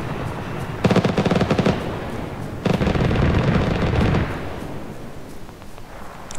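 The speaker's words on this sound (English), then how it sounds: "Light it up with the ZU," Two loud, rapid bursts of ZU anti-aircraft cannon fire in a 1980s Mujahideen-era war video game, the first burst brief and the second longer and heavier, with a rumbling tail fading afterward.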